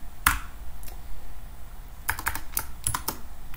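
Fingers type on a computer keyboard at close range, a few scattered sharp key clicks followed by a quicker burst of several taps.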